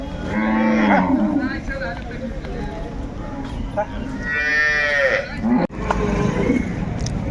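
Cattle at the Chausa livestock fair in Bihar, with several loud, drawn-out cow moos rising out of a busy open-air market din, close by and overlapping, with faint talk in the background.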